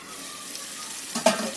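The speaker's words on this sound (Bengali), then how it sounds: "আলুটার সাথে মশলাটাকে ভালো করে একটু কষিয়ে নিচ্ছি।" Potatoes frying with spices in a pan for a prawn and potato curry: a soft, steady sizzle runs throughout, and a brief louder stir or clatter stands out near the end.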